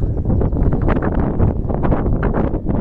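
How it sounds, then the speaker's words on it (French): Steady wind by limestone cliffs buffets the microphone with a rough, rumbling roar that swells and dips without pause; no one speaks. "Il y a du vent."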